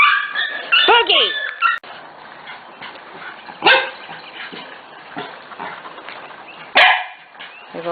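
Corgi puppies running around outdoors bark and whimper. Sharp yips and a rising whine come in scattered bursts, loud and close, with quieter stretches between them.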